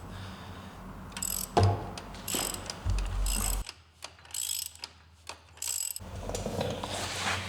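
A ratchet works on the swing arm bolt of a Harley-Davidson XLCH Ironhead, giving bursts of close, loud clicking with pauses and clunks between strokes.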